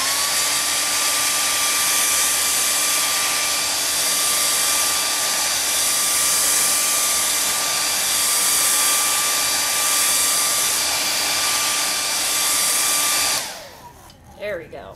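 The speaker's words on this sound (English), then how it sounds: "So, just be careful when you're blow drying." Hair dryer blowing to dry paint on an art project, a loud steady close whine with a constant pitched hum that cuts off near the end, followed by faint handling sounds.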